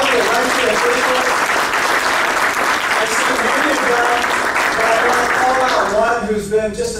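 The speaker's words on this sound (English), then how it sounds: "Can you first give a big round of applause to all the dignitaries who are here among us" Loud, sustained applause from an audience at an interfaith Eid celebration at a jamatkhana, a dense steady clapping for several seconds that thins out near the end.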